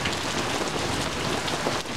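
Heavy thunderstorm rain pours down steadily, a dense, loud, unbroken hiss of drops drumming on surfaces close by.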